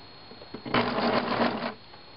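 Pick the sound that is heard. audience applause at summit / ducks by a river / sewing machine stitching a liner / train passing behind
sewing machine stitching a liner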